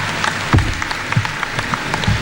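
Applause rises from a conference audience of secondary school heads at the KESSHA gathering, a dense patter of clapping with brief louder swells, moderately near and fairly steady.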